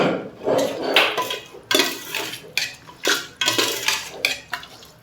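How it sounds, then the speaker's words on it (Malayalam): Fried paneer being mixed into biryani masala in a metal pot, loud close scraping and clanking spoon strokes in an uneven rhythm, with no voices. "നന്നായിട്ടൊന്ന് മിക്സ് ചെയ്ത് കൊടുക്കാം."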